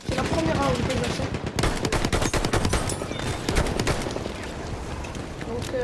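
Battlefield 1 gameplay gunfire crackles in dense, rapid bursts for the whole stretch, loud and close, with shots overlapping into near-continuous fire.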